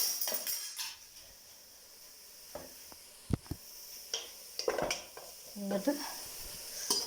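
Onions sizzle gently in a pan while a spoon scrapes and clinks against it in short, irregular bursts, with a brief spoken word in the middle.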